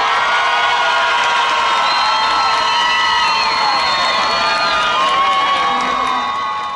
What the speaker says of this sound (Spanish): si ustedes creen que ellos son los campeones, ¡el aplauso!